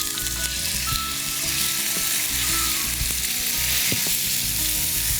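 Chicken grills in a little oil over high heat with a loud, unbroken sizzle and spatter that hisses close by, marked by occasional soft knocks of a utensil.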